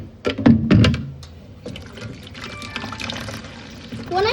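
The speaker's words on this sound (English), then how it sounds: "we're gonna still continue adding in the water" Water pours from a bucket into a tank with a splashy, bubbling gush that settles into a softer trickle and slosh, close by.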